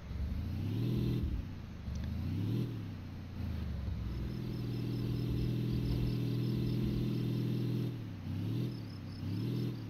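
Vehicle engine in the video game Dinosaur Fossil Hunter, a steady mid-pitched motor drone that rises and revs in several surges, then holds a sustained hum before revving again.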